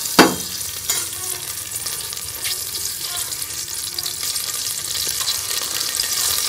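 Ghee sizzles and fries in a pan with cardamom, a steady close hiss with a few sharp clicks and stirring scrapes near the start, continuous and fairly loud.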